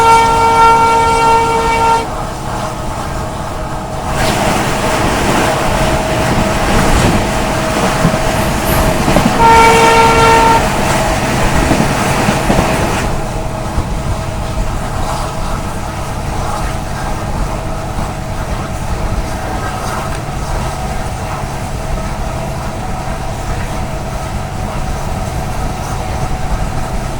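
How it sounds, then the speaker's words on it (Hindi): The Ajmer Amritsar Express, train 19613, rolls past loudly at an Indian railway line, with a steady rumble of rail cars and two bursts of its horn sounding near the start and again around the middle. "आ गई जी 19613 अजमेर अमृतसर एक्सप्रेस।"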